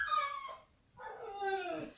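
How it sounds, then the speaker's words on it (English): Two drawn-out, whining howls from a dog or dogs, close and fairly quiet, separated by a short pause. "And the doggies are barking,"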